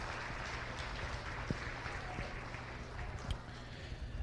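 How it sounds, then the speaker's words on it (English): Ringside applause for cattle exhibitors at a county fair cattle show, a steady, faint wash of scattered clapping from a small crowd with no talk over it. "Those of you ringside, big round of applause for these exhibitors,"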